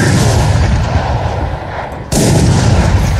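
Heavy, booming gunfire during a round of the video game Valorant, with dense, loud blasts filling the whole stretch and a brief dip in level before the firing resumes at full strength.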